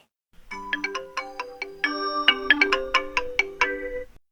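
A phone rings for an incoming call with a bright melodic ringtone, a quick run of clear chiming notes in a bouncy rhythm, close and alone for about four seconds.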